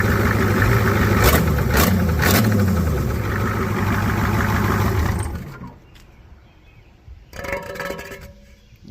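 A swapped-in Ford 7.3 IDI diesel engine with no coolant runs loudly at close range with a rough clattering idle and a few revs, then shuts off midway, leaving a quieter stretch before a brief burst of noise returns.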